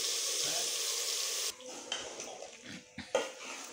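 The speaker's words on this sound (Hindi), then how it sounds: "तो अब इसमें डालूंगी साग और अच्छी तरह से इसे पका लूंगी।" Greens dropped into a pan of prepared masala, starting with a loud steady sizzle that cuts off sharply, followed by scattered clinks of utensil against pan and soft stirring.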